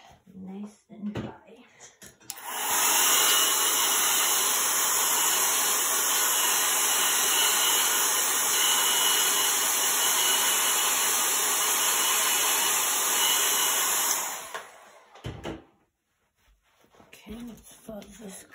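A heat tool drying chalk paste on pumpkin cutouts blows a steady, loud whirring hiss for about twelve seconds, then cuts off, with brief handling sounds before and after.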